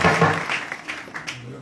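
An audience claps hands together at a devotional kirtan discourse in Dombivli, a dense patter of many hands rising and falling in bursts, with a voice mixed in at moments.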